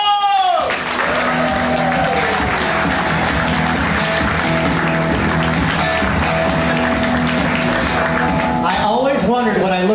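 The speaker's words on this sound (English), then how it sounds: "Big round of applause for Mr." Comedy showcase audience in Orlando applauding as a comic is introduced, steady clapping and some cheering under a loud music sting, with a voice breaking through near the end.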